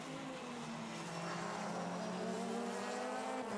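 Racing cars roaring past on a circuit during a 2011 season-finale race, the Wolf car repeatedly locking its brakes on Cooper slick tyres; a continuous loud engine drone with rising and falling tones, no voices.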